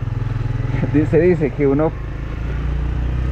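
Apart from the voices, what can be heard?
motorcycle engine running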